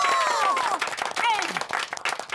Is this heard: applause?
yes